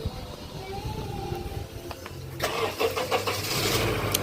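A car with a VTEC engine, just repaired at a roadside in Chiriquí, Panama, cranks and catches, then settles into a rough idle with some uneven revving, close by amid steady background noise.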